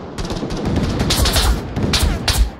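Gunfire in a VR video game, a dense rolling stream of loud shots and booms over about two and a half seconds, with no clear speech.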